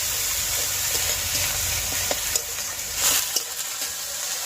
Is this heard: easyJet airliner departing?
no